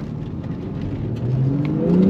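A Porsche 911 Carrera S 991.2 with an ECU tune, in normal mode with the sport exhaust on, accelerating from inside the cabin, its engine note climbing steadily and growing louder over about two seconds.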